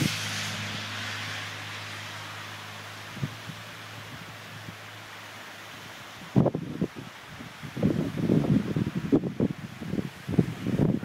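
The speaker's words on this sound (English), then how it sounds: "Here comes the wind again." Hurricane Irene wind gusting outdoors, a steady low rushing roar that swells into louder buffeting gusts toward the end, with no talking.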